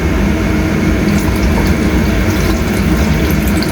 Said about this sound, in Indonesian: Tambahin lagi lah sedikit airnya.